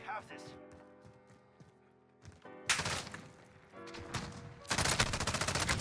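Gunfire from the Origin shotgun in the Modern Warfare video game, loud repeated blasts and crashing bursts in clusters, mixed with game sound effects and a player talking over the action.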